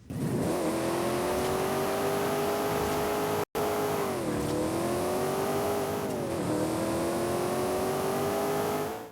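The 5.3 litre Turbofire engine of a Chevrolet Nova Super Sport in Forza Horizon 5 revs repeatedly, its pitch rising and dropping in several sweeps after a brief cut, loud and close with no talk.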